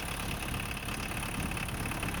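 A VW Golf 2 turbo engine idles quietly and smoothly with a steady, even hum, close and continuous.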